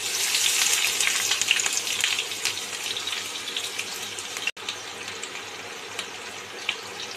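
Chopped onions fry in hot mustard oil with a loud, dense, crackling sizzle that stays close and continuous, broken only by a momentary gap partway through.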